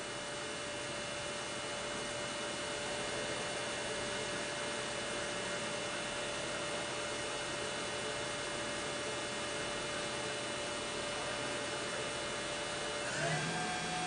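A QP-1620L high-speed CNC machining center spindle spins steadily at 8,000 RPM, giving a constant faint whine with broadband hiss, unbroken throughout, with a brief pitch shift near the end.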